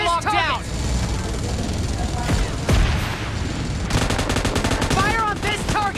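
Rapid bursts of automatic gunfire and explosive shots crackle through a video game firefight, dense and loud throughout, with a heavier boom near the middle and a player talking over the action.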